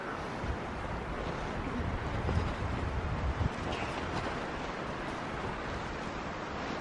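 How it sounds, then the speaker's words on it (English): Strong gusts of wind roar steadily through huge old forest trees along a hiking trail as a storm blows in, a dense, continuous rushing with no pauses. "It's a very windy day today."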